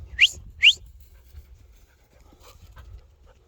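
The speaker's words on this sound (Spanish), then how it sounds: "Ah, está allí el perro ya." A dog pants softly close by outdoors, with two sharp whistles near the start and faint rustling afterward.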